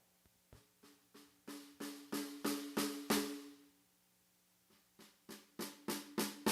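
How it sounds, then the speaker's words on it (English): Evenly spaced snare drum hits, tinny with a short ringing decay, play in a run of about eight strokes, pause briefly, then start again. "And the snare kind of sounds like this. It has kind of a tinny sound."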